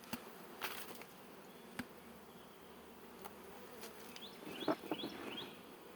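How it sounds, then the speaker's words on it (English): A steady, close drone of many honeybees buzzing in a hive fills the air, with occasional light clicks and knocks over the hum. "And there's bees on this side that I got to get rid of."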